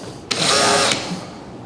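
A power drill bores into a wall during a hole patching job, one short high whine of just over half a second that starts abruptly and cuts off, close and loud.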